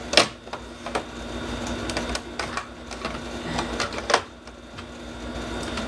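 A sewing machine stitches fabric with the wrong presser foot fitted, running in short bursts with mechanical clatter and brief louder thumps at the start and around four seconds, fairly close and with no talking.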